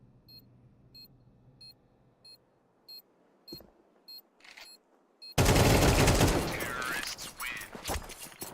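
Counter-Strike match with regular game beeps, then a burst of loud pistol gunfire and chaotic in-game noise, with a caster's voice under the action.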